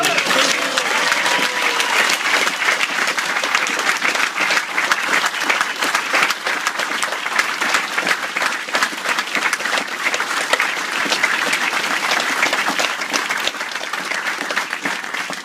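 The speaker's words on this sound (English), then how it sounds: "Give them a nice hand clap." Sustained, dense applause from a large audience, steady and loud throughout with no breaks, a crowd clapping continuously.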